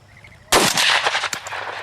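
A single loud, close shotgun blast at a dove hunt on opening day, with a sharp report followed by a long, rolling outdoor echo and a fainter second crack shortly after.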